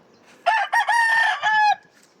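A single loud rooster crow rings out nearby on a patola farm, a long rising and falling cock-a-doodle-doo, with faint soft clucking underneath.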